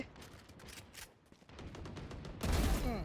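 Gunfire in the Valorant shooter game, with dense rapid shots that swell into a louder, heavier barrage toward the end, close and without speech.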